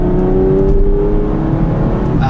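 An Aston Martin V12 Vantage S with a 5.9-litre V12 accelerates hard at full throttle in fourth gear, its loud, close engine note swelling smoothly and steadily with no pause.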